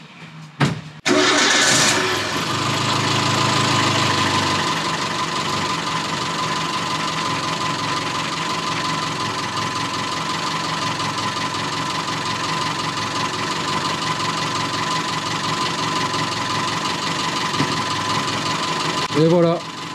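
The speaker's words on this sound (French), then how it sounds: "démarrage à froid, elle démarre tout de suite" A cold Renault 11 Turbo engine cranks and catches almost at once, then settles into a steady, slightly low idle with a loud, close mechanical hum that runs without pause until the end.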